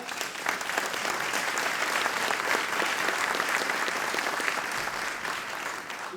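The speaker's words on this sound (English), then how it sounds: "Can we give her a round of applause?" Audience applause at an early learning school event, dense and steady clapping from a sizeable crowd, sustained at an even level throughout with no talk over it.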